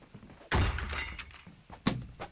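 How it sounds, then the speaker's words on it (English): Glass shatters in a Bigfoot video game: a sharp crash and breaking burst followed by fainter tinkling fragments and a second smaller break, close and fairly quiet, with no talking over it. "Break the glass, but not the wooden planks."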